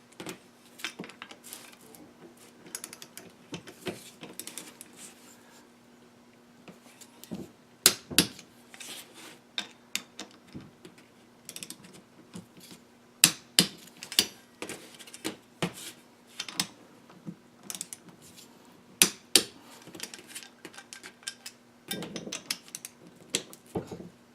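Ratcheting clicks and sharp metallic ticks from a torque wrench set to 18 foot-pounds, tightening riser bolts on a 2017 Indian Roadmaster motorcycle, come in scattered bursts over a low steady hum, fairly close and moderate in level.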